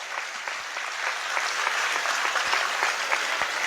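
Congregation at a Palm Sunday Mass applauding during the homily, a dense, loud burst of clapping from many hands, steady and even throughout with no talking over it.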